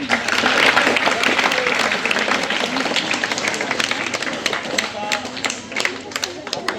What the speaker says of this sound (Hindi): तो आप जो है उनके लिए भी तालियां मारिए।